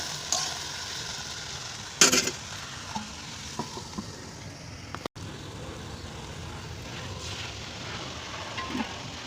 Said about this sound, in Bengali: সবজিগুলো দিয়ে একটু নেড়ে চেড়ে নিয়ে ঢেকে রেখে দেবো।